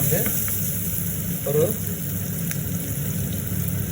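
Onions frying in a pan with salt and turmeric for soya meat curry, a steady close sizzle with a few brief stirring scrapes, no one talking.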